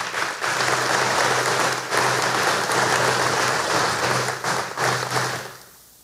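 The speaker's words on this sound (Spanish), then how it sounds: "para quien pido un fuerte aplauso." Sustained audience applause in a chamber during the opening session of the Córdoba city council, a dense, even wash of clapping that holds for several seconds with a steady low hum beneath before fading at the end.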